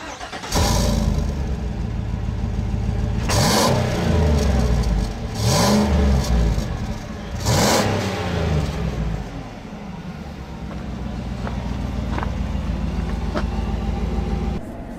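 A Chevy Silverado's 6.2-liter V8, taken from the last-generation Corvette, roars through three strong revs in a row, then settles to a steady loud idle, close up and with no voices.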